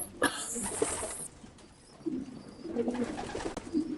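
Soft cooing of racing pigeon hens in an enclosed loft, low murmuring calls rising and falling, with faint fluttering and shuffling between them.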